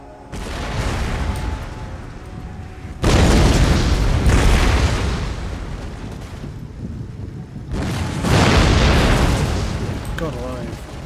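Artillery battery opening fire in Empire Total War, heavy booming cannon blasts rolling in dense overlapping waves, loud and continuous with surges of stronger volleys and a lull between.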